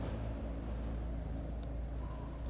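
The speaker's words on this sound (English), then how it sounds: "You can hear it purring." A video game cat purrs, a low, continuous rumble under soft background noise, even and close without pauses.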